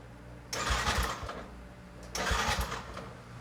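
A low-cc carbureted motorcycle engine cranks on its electric starter in two separate bursts, each a whirring, chugging churn lasting under a second, with a pause between and no sign of the engine catching.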